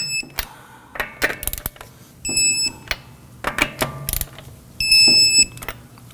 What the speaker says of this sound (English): torque down our lug nuts to 76 foot-pounds